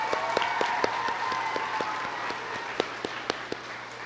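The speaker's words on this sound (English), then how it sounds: "Let's give him a round of applause." Audience applause at a Columbus City Schools Paint the Plow event as an area superintendent is welcomed: a scattered crowd clapping at moderate volume with a few sharper individual claps standing out, fading after a few seconds.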